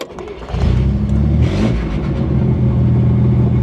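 A Chevrolet Corvair engine cranks and catches within the first half second while in gear, then settles into a loud, steady, rumbling run close by.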